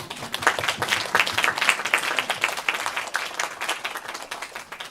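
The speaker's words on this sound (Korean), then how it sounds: "큰 박수로 맞아주십시오" Dense applause from a sizeable audience at a film festival closing ceremony, a continuous crackle of many hands that fades slightly toward the end.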